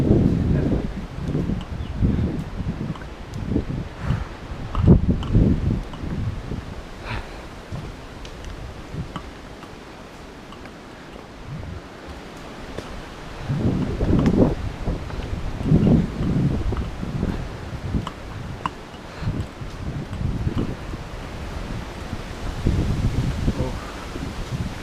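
Cold wind gusts in uneven bursts across a misty mountain trail on the Agasthyarkoodam trek toward the peak, buffeting and rustling near the microphone between quieter lulls, while people talk.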